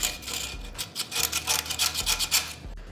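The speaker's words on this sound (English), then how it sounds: "you can just use a knife, and if there is any plastic left in there" A knife blade scrapes leftover plastic out of a rear axle bushing on a Volvo S70 or V70, making steady close raspy strokes in a repeating back-and-forth rhythm with no talking.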